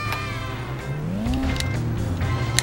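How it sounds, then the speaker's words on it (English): A car driven in The Simpsons Hit & Run video game: a steady engine drone with rising and falling pitch as it accelerates, with small crisp effects on top and no talking. "Get in your vehicle and head down the street"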